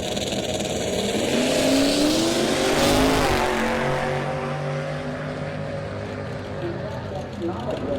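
Whipple-supercharged S550 Ford Mustang at a drag strip, engine roaring loud and steady with rising revs, blended with crowd and track noise and some talk.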